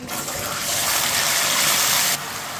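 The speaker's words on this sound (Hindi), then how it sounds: "आप इसमें 2 प्याली पानी डालेंगे।" Water is poured into a pan of roasted semolina and oil while making suji halwa, a steady loud gushing pour lasting about two seconds before it stops, with no talk.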